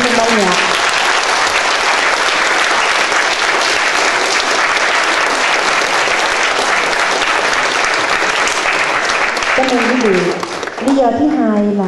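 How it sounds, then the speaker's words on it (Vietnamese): Loud, sustained applause from a concert audience at a Thanksgiving concert, a thick wash of clapping for the band that stays strong throughout, with a voice coming in briefly near the end. "xin quý vị cho một tràng pháo tay thật là lớn cho tất cả những thành viên trong ban nhạc."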